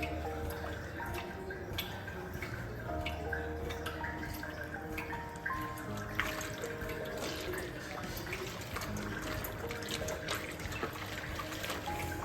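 Hot water poured into a kitchen sink or basin to soak cooking cloths, a steady trickling, splashing flow running continuously alongside clinks and household clatter, fairly close.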